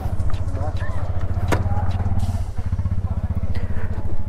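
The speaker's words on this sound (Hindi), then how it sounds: "तो अभी मैं चलाऊंगा भाई का बाइक" A KTM Duke motorcycle engine thrums steadily as it is ridden over a bad, broken road, with rhythmic low pulsing and occasional clatter, close by and continuous throughout.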